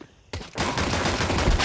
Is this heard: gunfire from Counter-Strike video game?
yes